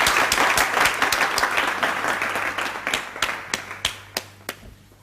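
Audience applause at a charity donation event for needy students, dense clapping that thins into a few separate, louder claps near the end.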